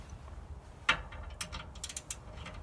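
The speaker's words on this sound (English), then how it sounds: "I use a ratchet wrench, as you can see here" A ratchet wrench turns while a fifth-wheel trailer hitch is being hooked up, giving one sharp metallic snap followed by a quick series of light, close clicks from the pawl, with no talking.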